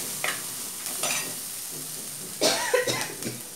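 Ginger and green chilies stirred in a clay cooking pot, giving a few short scraping, sizzling strokes that grow louder and busier near the end, with no talk.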